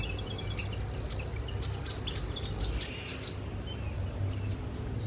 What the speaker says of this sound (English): I really want to film this bird, it's really quite adorable